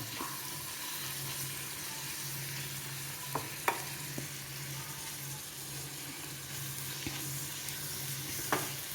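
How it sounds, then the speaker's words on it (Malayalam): Tomatoes sizzle softly in oil for a home-style chicken roast, a steady low frying hiss with a few faint clinks of a spoon stirring the pan, quiet and close. "ഇതും നമുക്ക് ഒന്ന് ഇളക്കി തക്കാളി ഒന്ന് വെന്ത് വരട്ടെ."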